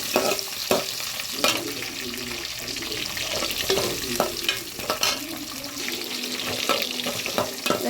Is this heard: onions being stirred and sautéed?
yes